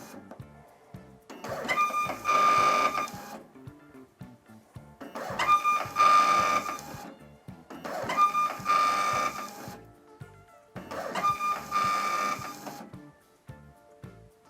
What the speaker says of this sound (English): we can allow the printer to test some labels